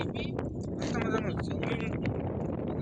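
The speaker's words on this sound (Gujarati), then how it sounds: "પવન જોવો તમે કેવો પવન આવે" Wind blowing outdoors at a rural village site, a rough low rumble of gusts under a voice talking.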